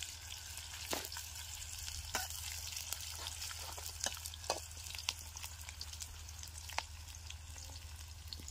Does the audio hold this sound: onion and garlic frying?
yes